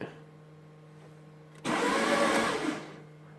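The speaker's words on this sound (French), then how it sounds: "Donc là, je vais démarrer mon véhicule. Moi, je vais essayer. Et écoutez le bruit." A Mercedes C200 engine with a fault after cleaning of the EGR valve and solenoid valve starts abruptly and runs with a loud, harsh, rushing roar for over a second before dropping back, heard close up with no talk.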